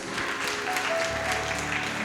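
Steady applause from a crowd, a dense wash of clapping that carries evenly throughout, moderately loud and without speech.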